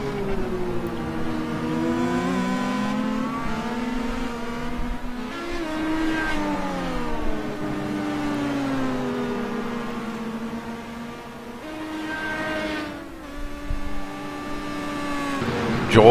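Star Mazda race car engines on track during a race, loud and sustained with repeated rising pitch sweeps as cars accelerate and shift, a few passing close by, with no talk heard.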